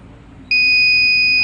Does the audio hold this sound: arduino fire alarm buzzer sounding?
yes